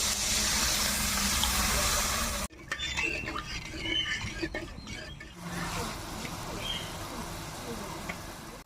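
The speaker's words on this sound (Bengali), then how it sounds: "মশলা তেল ছেড়ে দিয়েছে, এবার আমি জল দিয়ে দিচ্ছি" Water poured into spice masala frying in oil in a pan for a katla fish curry, giving a loud, steady hissing rush for about two seconds before dropping to a softer bubbling simmer.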